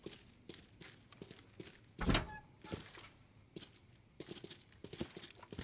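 A door opens with a heavy thunk and scrape in the Arena Breakout Infinite shooter game, one loud burst amid quiet footsteps and scattered handling clicks.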